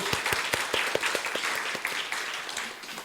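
A congregation applauds at a church meeting with a brisk, steady patter of many hands clapping together, filling the room for about three seconds.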